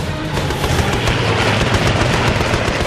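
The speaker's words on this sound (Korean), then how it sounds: "피스톤 엔진 소리와 기관총과 기관포가 뿜어드는 스타카토 소리가 발라톤 호수의 하늘 위에 폭발했다." Continuous rapid gunfire from piston-engine fighters in an air battle over Lake Balaton, a dense staccato rattle of machine guns mixed with heavier booming cannon shots, loud and unbroken throughout.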